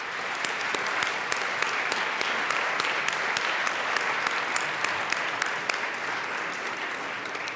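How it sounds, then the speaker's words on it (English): Sustained applause from members filling the Colorado House of Representatives chamber during a 2018 legislative session, steady and dense with sharp individual claps popping out, loud and continuous for the whole stretch. "So if we can just give them a round of applause for this amazing achievement."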